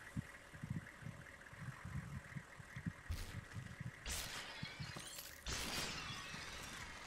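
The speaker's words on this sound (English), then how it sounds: "It's a truck, guys." A truck engine idles in the game Superhot, a low steady rumble with rhythmic pulses, broken by two loud crashing bursts of shattering noise.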